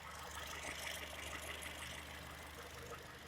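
Steady, low idle of a 2007 Honda Fit engine just after an oil change, a constant close mechanical hum with a faint ticking texture and no talk.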